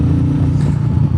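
Royal Enfield Meteor 350 motorcycle engine fitted with a FuelX Pro module, running steadily with a close, loud, rumbling low drone throughout a brief moment.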